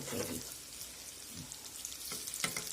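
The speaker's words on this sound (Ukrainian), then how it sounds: "я жару і повертаю" Steady hissing sizzle of cheese croissants frying in a pan, with a few soft clinks and scrapes as pieces are turned.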